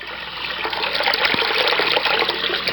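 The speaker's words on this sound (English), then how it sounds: "we want to fill up a bowl here" Water pours steadily into a bowl, filling it for tie-dyeing, with a continuous close, fairly loud rushing splash and no talking.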